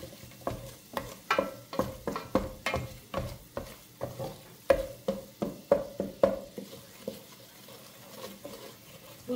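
A spoon stirs flour in a hot pan for tripe soup, giving about fifteen close, rhythmic scraping strokes with a faint sizzle underneath and no voices.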